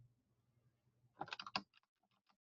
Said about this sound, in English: I'm just going to type that into the description.